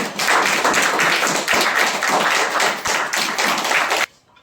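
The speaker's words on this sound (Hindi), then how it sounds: "ये प्रभु के लिए जोरदार तालियां" Vigorous, dense applause from a church worship congregation rings out steadily for about four seconds, loud and close, then stops abruptly into near silence.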